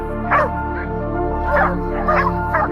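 Hunting dogs bark and yip at a wild boar cornered in a ditch, with several sharp bursts of barking spaced over a steady low background rumble, fairly close and loud.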